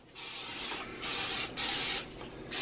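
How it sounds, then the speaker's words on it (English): Non-stick cooking spray hisses into a lasagna baking pan in four short, close bursts separated by brief pauses. "Non-stick spray."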